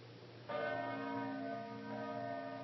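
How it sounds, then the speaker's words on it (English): The bell of the Congregational Church in Plymouth, Vermont tolls the hour, one resonant strike ringing out and sustaining with a long humming decay, heard in an old radio-style recording. "As the bell of the Congregational Church in Plymouth, Vermont, tolls the hour"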